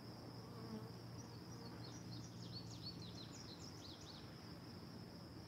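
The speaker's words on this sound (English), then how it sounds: "there's plenty of bees in there" Bees hum in a dense, continuous buzz, close and steady, with brief higher whines from individual insects flying past.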